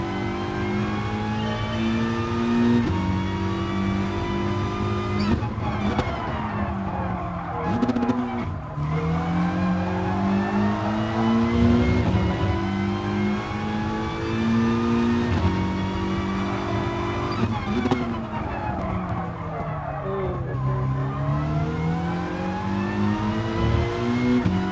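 Group 4 race car in GT Sport, its engine revving hard through the gears with sharp drops at each shift and rising pitch between them, close and loud, with occasional tire squeal and no talk.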